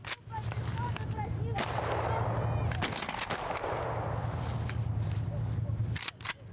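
A platoon of Russian airborne troops fires rifles in sharp, close bursts of gunshots at irregular intervals, with a low engine-like hum underneath and voices now and then.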